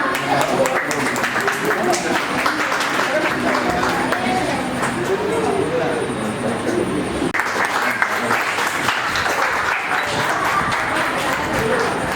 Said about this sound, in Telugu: అందరు చప్పట్లు బాస్.